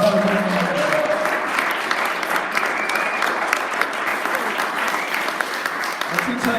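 Steady audience applause fills a banquet hall for John, sustained and even throughout, with a voice speaking briefly at the start and again near the end.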